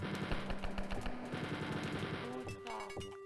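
Automatic weapon fire in the video game Wolfenstein 3D, a fast, evenly spaced stream of shots for a few seconds, then a couple of sharper blasts with a pickup-like tone, loud and up front.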